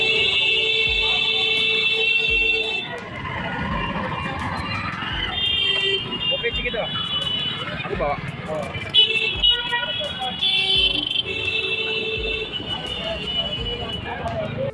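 Vehicle horns honking in Indian city traffic, with repeated sustained toots and overlapping horn blasts over a constant busy street rumble, loud and close.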